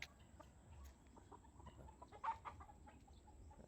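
Soft, irregular clucking from a nearby rooster over a low background rumble, with a few brief sharper calls.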